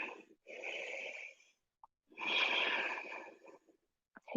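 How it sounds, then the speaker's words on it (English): Slow, deep breaths during yoga practice: a long inhale and a longer exhale with a pause between, close and breathy with no talk. "Deep breathing."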